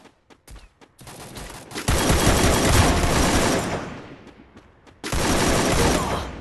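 Gunfire in a shooting video game, Counter-Strike style: a few sharp single shots at first, then long loud automatic bursts, a brief drop, and another sustained burst at the end.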